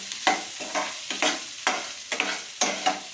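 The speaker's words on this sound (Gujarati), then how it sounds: "હવે આપણે આ ડુંગળી સુધારી હતી એ નાખી લઈને ધીમે તાપે આપણે એને સાતરવાની છે" Chopped onions sauté over a low flame for misal pav, a steady sizzle broken by about six regular scraping stirs, close and moderately loud, with no talking.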